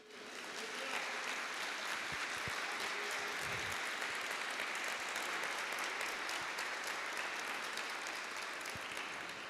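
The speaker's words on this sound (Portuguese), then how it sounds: "aplauda o Senhor nesta manhã." A church congregation applauding at a Sunday morning service, a steady, dense wash of clapping that fills the room evenly and continues without a break from start to finish.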